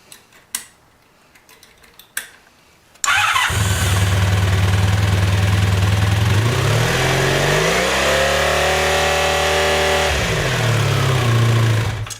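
A Honda Sabre motorcycle engine fires up after a few faint clicks and idles loudly and steadily on cylinders 1 and 3, its pitch rising briefly mid-run before settling back to a rough, even idle.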